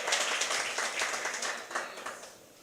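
A church congregation applauding together, a steady wash of many hands clapping at moderate volume throughout, with slight swells and no voices on top.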